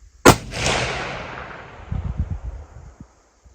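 Ruger American Gen 2 Predator rifle in 6.5 Creedmoor fires one loud, sharp report that decays into a long rolling echo, followed by faint low shuffling handling sounds.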